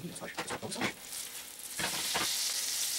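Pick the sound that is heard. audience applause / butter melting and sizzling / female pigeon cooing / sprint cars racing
butter melting and sizzling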